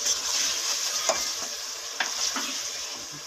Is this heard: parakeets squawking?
no